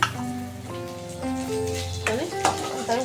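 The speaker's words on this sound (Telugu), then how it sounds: "ఇది వన్ టైం ఫ్రై చేసుకోవాలా తర్వాత కరివేపాకు కొంచెం వేసుకుంటా ఉన్నాను" Curry leaves fry in hot oil for a rasam tempering, giving a steady sizzle under a sustained tonal hum, with a few crackles near the end.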